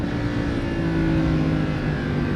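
A Lamborghini Huracan engine on throttle gives a steady, loud, droning mechanical roar with a faint rising tone, heard close and continuous without talk.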